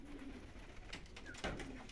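Racing pigeons at a Polish loft after a young-bird race from Nowogard coo softly close by, a low repeated murmur over steady background hiss, with a brief louder rustle near the end.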